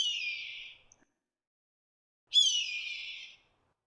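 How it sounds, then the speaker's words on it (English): A red-tailed hawk gives two harsh, descending screeches, each about a second long, separated by a pause of over a second, clear and fairly loud against silence. "this sound is actually the call of the red-tailed hawk"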